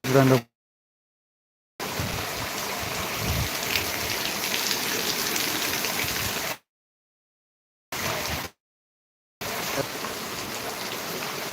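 Heavy rain pours down steadily in Dharmavaram, a dense continuous hiss of drops hitting surfaces, cut by several abrupt silent gaps between bursts, with no voices.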